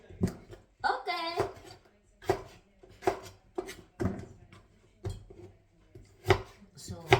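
A knife cuts potatoes into small pieces for French fries, sharp rhythmic chops on a board at an uneven pace, close up, with a person talking between cuts.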